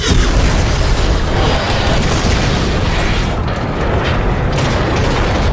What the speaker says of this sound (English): Warp cannons.